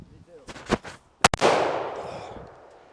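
A budget pump-action shotgun fires a bird shot load outdoors: a single sharp, loud blast follows a few mechanical clicks and handling noises, then a long rumbling echo fades away.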